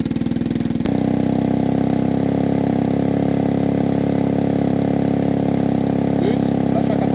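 Engine of a 2021 Yamaha TMAX 560 scooter caught with a sharp click, then held steady near 2000 rpm, giving a loud, even, close-up drone with a fine pulsing rhythm and no talk over it.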